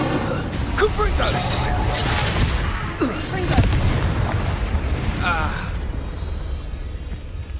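In Hogwarts Legacy, a Confringo spell sets off booming explosions with a continuous heavy rumble of blasts and debris that dies away toward the end, with shouted voices over the chaos.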